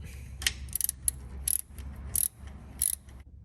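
A 9/16 wrench tightens a bolt with a flat washer and split lock washer on the rear brake line of a GMC RV, giving short bursts of metallic ratcheting clicks with pauses between them, close and fairly clear.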